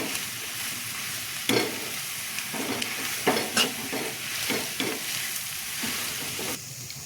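Grated potato stuffing for aloo paratha is stirred in a pan over a constant sizzle, with repeated scraping spatula strokes and soft knocks at irregular intervals, close and fairly loud, no talking.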